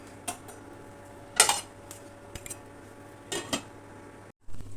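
A pot of beef biryani is covered with a lid: a few quiet metallic clinks and scrapes, one louder clattering rattle, then a brief silence before a low hum returns, close by with no voices.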